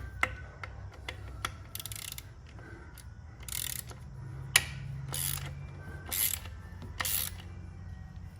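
Ratchet loosening a rear shock bolt on a BMW R 1200 GS motorcycle, a series of sharp clicking bursts and ticks spread over several seconds with low workshop hum beneath.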